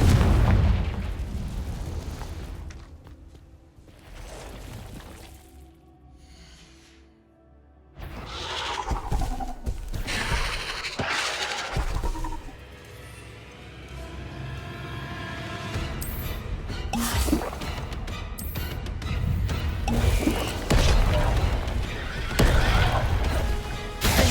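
Confringo explosion spell cast in the video game Hogwarts Legacy, a run of loud booming blasts and crashes with a brief quiet gap, followed by further dense, busy bursts of spell impacts.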